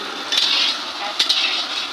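Carrots frying in oil in a pan, a steady bright sizzle with two brief louder bursts as a spatula stirs and scrapes, close and without speech.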